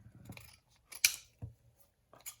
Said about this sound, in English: Just using my big scissors.